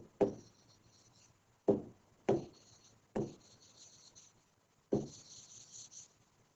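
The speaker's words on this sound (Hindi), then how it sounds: "पहले मैं लिख लेता हूं, फिजिकल प्रॉपर्टीज" Pen or chalk strokes during a classroom lesson: five distinct scratchy writing bursts, each starting with a tap and trailing into a short rub, separated by quiet gaps, close and fairly soft.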